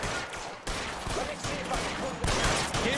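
Rapid gunfire in L.A. Noire, an enemy firing a machine gun in a shootout: sustained dense bursts with sharp individual shots, loud and close, a heavier volley near the end, plus faint game voices underneath.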